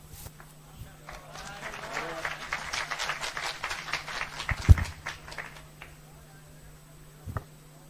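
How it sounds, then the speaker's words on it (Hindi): Audience applause for a speaker at a motivational talk, a loose patter of hand claps building over several seconds and then fading, with a couple of sharper knocks near the end. "मुंतजर मेहदी आपके लिए जबरदस्त तालियां"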